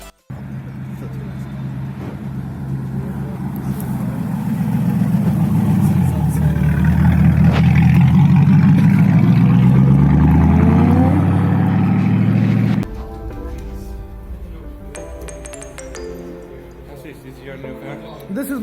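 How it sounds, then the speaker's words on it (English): V8 sports car engine running nearby, a deep, loud rumble that swells as it revs and then drops abruptly to a quieter idle, with a person talking over it. "V8 की आवाज़ आप यहीं से सुन सकते हैं."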